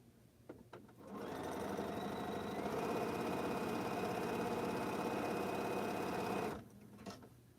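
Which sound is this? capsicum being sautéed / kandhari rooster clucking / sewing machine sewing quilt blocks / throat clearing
sewing machine sewing quilt blocks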